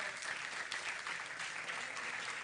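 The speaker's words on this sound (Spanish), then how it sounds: "Dale ese aplauso al Señor." Church congregation applauding steadily, a dense, even wash of many hands clapping together for the whole stretch, with no voices standing out.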